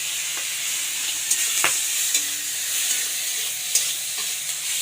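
Prawns frying in hot oil in a wok give a steady close sizzle with a few brief stirring clicks and scrapes, and no voice is heard.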